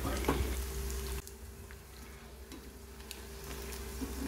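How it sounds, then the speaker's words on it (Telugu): Boti pakodi, tripe fritters, frying in oil over a medium flame, giving a steady close sizzle with a few soft crackles and no talking. "మీడియం ఫ్లేమ్లో వేగనివ్వాలండి. ఒక 5 నిమిషాల పాటు అటు ఇటు ఇలా కలుపుతూ."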